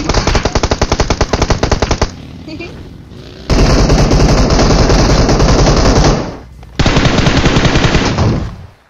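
Loud, close automatic gunfire in PUBG comes in long rapid bursts, with a short gap of quieter noise between them and a final burst that trails off.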